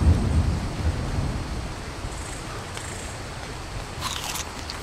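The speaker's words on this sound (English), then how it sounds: "Oh, what's that noise? It's raining!" A rainstorm in the video game Ark on The Center map opens with a low rumble of thunder, then settles into a steady hiss of rain with occasional crackling.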